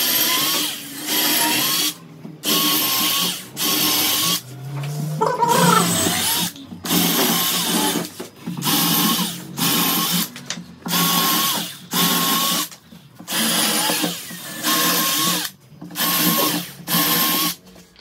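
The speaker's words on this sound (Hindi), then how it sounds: "अब क्या करेंगे इनको हम होल मारेंगे क्योंकि हमने स्क्रू कसने हैं।" Power drill boring screw holes through wooden planks for a bed box: repeated bursts of motor whine and cutting, about a dozen short runs separated by brief pauses, close and fairly loud with no talk.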